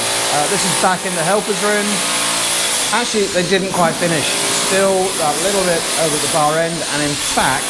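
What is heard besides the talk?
drilling on a house building site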